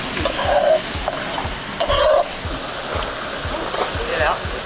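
Caught fish stir-frying in a wok with a splash of water added, a continuous sizzle with rhythmic spatula scrapes every few tenths of a second, close, and brief voices talking over it.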